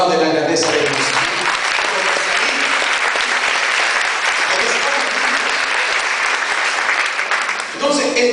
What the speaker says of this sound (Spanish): ¿Cuánto aplaude la grandeza de Dios?